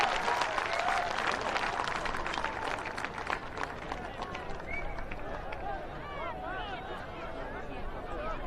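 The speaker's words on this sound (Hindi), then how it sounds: "तालियों की गड़गड़ाहट से स्वागत करें माननीय प्रधानमंत्री जी का।" Large rally crowd applauding to welcome Prime Minister Narendra Modi at a development-project inauguration event in Assam, a dense, steady wash of clapping and crowd noise filling the whole stretch with some cheering mixed in.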